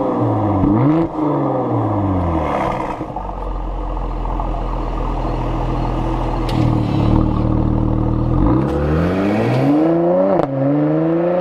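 A Mercedes-Benz C43 AMG with a performance exhaust revs outside, its engine rising and falling in several loud, close pulls with a deep growl and sustained idle between them.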